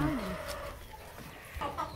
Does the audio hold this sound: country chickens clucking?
yes